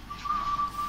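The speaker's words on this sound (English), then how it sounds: "who's whistling? That's my friend. Okay. He's whistling." A friend whistles in the background with a thin, steady high tone that breaks into a few short sustained notes. It is quiet and slightly distant.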